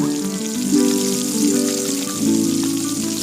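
Fish slices fry in hot oil with a steady, dense sizzle and crackle, close and fairly loud, overlaid with tonal hum rising and falling.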